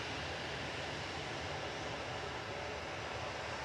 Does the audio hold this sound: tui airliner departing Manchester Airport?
yes